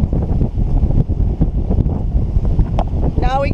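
Strong wind buffets the microphone on a sailboat at sea near the eastern Bahamas, a loud, rough rushing with gusty swells, and a voice speaks briefly at the end.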